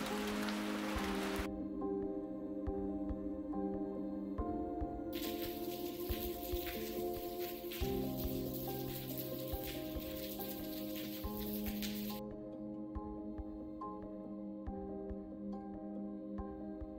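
Steady rain falls on a trail along the Camino Primitivo in Spain, a continuous soft patter with bursts of brighter hiss, no voices.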